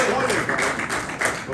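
A church congregation claps for a short burst during a Spanish-language service, rapid overlapping hand claps filling the room with voices mixed in.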